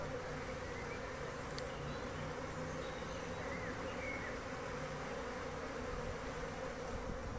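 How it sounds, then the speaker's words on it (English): A large cloud of honeybees flying around their colony on a sunny spring day, a dense, continuous buzzing drone that stays steady and fairly loud throughout, with no voices. "you can hear them flying really loudly"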